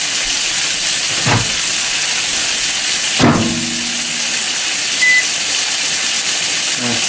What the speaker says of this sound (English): while I'm finishing with rinsing the black beans